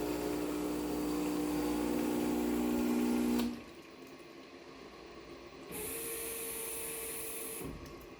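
A Crescendo espresso machine runs with a steady, loud motorized pump hum that cuts off abruptly, followed by a quieter hiss and a second softer mechanical whir before stopping.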